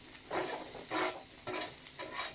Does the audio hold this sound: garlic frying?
yes